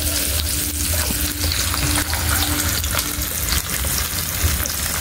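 Sardines frying in a hot pan for a Filipino dish with egg and dried fish, a loud, continuous sizzle and crackle with occasional stirring scrapes.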